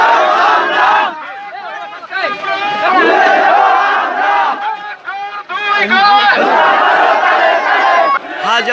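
Protest crowd of thousands in a Bangladeshi market loudly chanting slogans in rhythmic unison, a dense, continuous wall of massed voices with brief dips between chant phrases.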